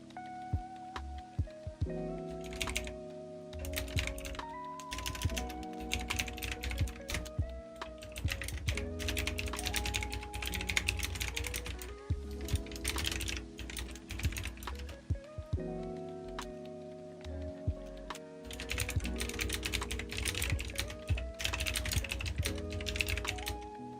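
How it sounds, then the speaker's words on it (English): Continuous typing on a computer keyboard, close and crisp, with rapid irregular key clicks running under soft background music throughout. "Did you hear me typing?"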